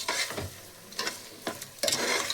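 Masala and vegetables fry in hot oil under repeated stirring strokes, a steady close sizzle broken by several distinct scraping sweeps of the spoon, with no talking.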